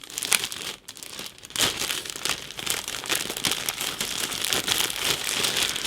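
Cellophane bags holding plastic model kit sprues crinkle and crackle continuously up close, with dense rustling that swells and fades as the bags are handled.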